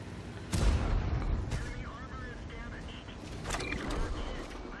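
Artillery shell impacts from an allied self-propelled gun in World of Tanks, with a Ferdinand tank on the receiving end: two heavy booming hits a few seconds apart over a rumbling engine bed, with a voice talking throughout.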